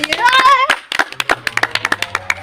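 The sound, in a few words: audience clapping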